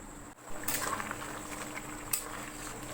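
Butter chicken masala simmers covered on a low flame, a quiet, steady bubbling hiss with a soft lid clink early on and a small tap near the end.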